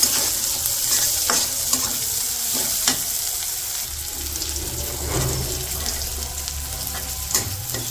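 Onions and green chilies frying in a wok, a loud continuous sizzle with repeated scraping and knocking from stirring.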